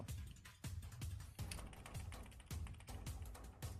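Keys on a computer keyboard are struck in quick, uneven bursts of close, crisp clicks, with no voices, during a Roblox live-stream session.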